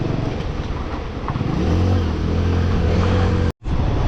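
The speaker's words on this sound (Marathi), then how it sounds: "इंजिन मधनं लईच कडकड कडकड आवाज येतोय यार" A Honda Passion Pro motorcycle engine clatters and rattles while riding a rough mountain road in Spiti Valley toward Tabo, a loud, steady, close mechanical drone with a brief dropout near the end.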